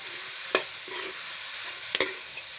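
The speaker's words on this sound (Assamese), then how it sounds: "আৰু এতিয়া এইখিনি ধুনীয়াকৈ লৰাই দিম যাতে গোটেইখিনি" Spiced duck meat stirred in a frying pan, with a low steady sizzle and two brief scraping knocks of the spoon against the pan; no speech.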